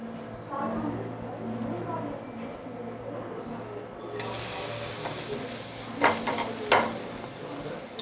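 Grated coconut frying in a pan for wheat puttu, a soft sizzle under a low hum, with bright clinks and scrapes of a utensil against the pan near the end.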